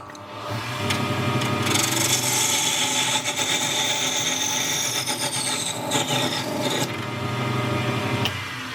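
A parting tool cuts into spinning wood on a wood lathe, a loud, sustained scraping and rasping whine over the motor's steady hum, with brief shifts in pitch as the cut deepens.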